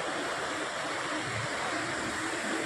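Flood water after a cloudburst in Hingoli, India, rushes and roars steadily, a loud continuous flow with no pauses.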